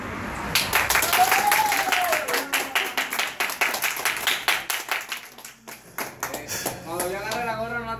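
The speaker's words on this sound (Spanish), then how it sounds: "ustedes van a aplaudir" Classroom audience clapping along in a group game, bursts of applause that start and stop at the leader's signal, with a voice talking over them and a squeaky voice near the end.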